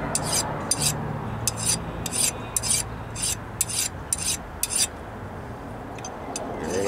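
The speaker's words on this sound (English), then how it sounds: "And it's a little diagonal movements with the file." A hand file scrapes rust off a Toyota Corolla front brake part in quick diagonal strokes, a rhythmic series of crisp rasping bursts heard up close over low background hum.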